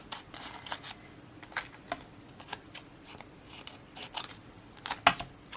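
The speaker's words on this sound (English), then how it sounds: "make sure that the vinyl sticks to the transfer tape, and then we can cut these apart" Scissors snip through vinyl and transfer tape in a quick run of short, crisp cuts, close and fairly quiet, with no talking.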